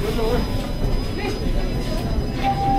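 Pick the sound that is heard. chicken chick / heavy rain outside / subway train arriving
subway train arriving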